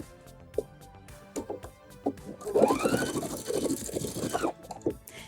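Sewing machine back stitching a seam on a blazer, close, running in a steady whirring burst of a couple of seconds between softer ticks and brief stitch clicks.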